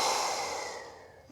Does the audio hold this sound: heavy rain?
no